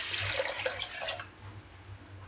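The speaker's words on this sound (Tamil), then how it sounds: "இப்போ இதுக்கு தேவையான அளவு தண்ணி சேர்த்திக்கலாம்." Water pours into cooked lentils for an Andhra-style tomato dal curry, a close splashing, gurgling stream that fades toward a quieter trickle, with no talking.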